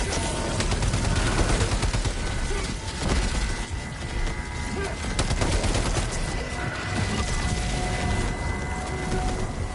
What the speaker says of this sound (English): let me just drop some nades